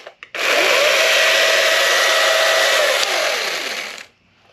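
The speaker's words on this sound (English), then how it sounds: "Got another little hand chainsaw right here from Cenex." A small Cenex handheld chainsaw runs, starting with a couple of quick pulls, then a loud, steady high-pitched buzz for about four seconds before cutting off.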